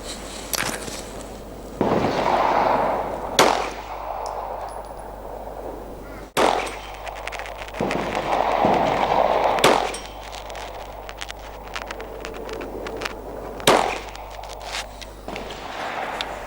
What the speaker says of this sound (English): I'll just take a couple of shots at that with the last 4 rounds.